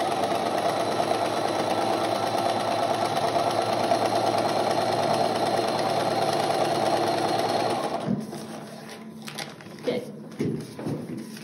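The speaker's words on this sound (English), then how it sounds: "So what I'm going to do is sew on my basting stitch line" Sewing machine running a basting stitch line, a loud continuous whirring hum for about eight seconds before stopping, followed by fabric handling and small clicks.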